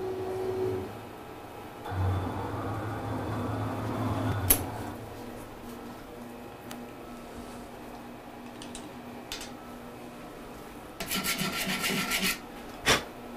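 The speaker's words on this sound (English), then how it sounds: "I just rubbed that clean on the face there" A boat fork part has its face rubbed clean, giving soft, close scrubbing and rasping in short bursts, with quieter gaps and a clatter and a knock near the end.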